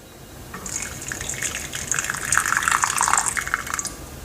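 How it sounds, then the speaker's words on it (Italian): Chicken broth is poured over canederli dumplings in a serving dish, a soft gushing pour that builds gradually and trails off after a few seconds. "Aggiungiamo il brodo."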